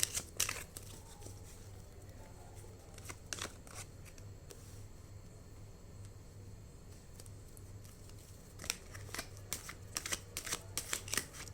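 Tarot cards shuffled and drawn by hand, with soft crisp riffles and flicks in short clusters near the start, around three to four seconds and again toward the end, over a steady low hum.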